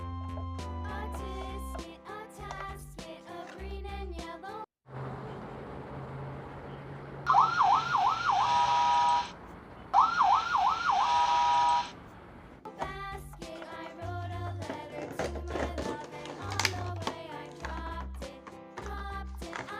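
A toy police car gives two short bursts of wailing, warbling siren. They play loud and close, with upbeat background music before and after.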